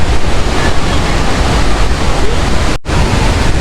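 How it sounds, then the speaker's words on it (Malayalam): Athirappally waterfall roars close by with spray and rushing water, a loud, unbroken broadband rush that cuts out briefly for a split second near the end. "നല്ല രീതിയിൽ വെള്ളം നമ്മുടെ പുറത്ത് തെറിക്കുന്നുണ്ട്"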